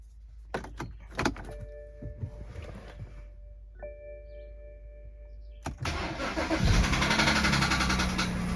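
A 2011 BMW 328i xDrive with an N51 engine cranks and catches near the end, settling into a rough idle after earlier clunks and mechanical noises, with no talking.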